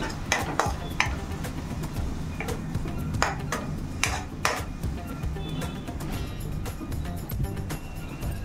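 Egg fried rice being stirred in a pan with soy sauce mixed in, a spoon scraping and clinking against the metal in repeated strokes over a faint, steady sizzle.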